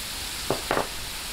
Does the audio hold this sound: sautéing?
yes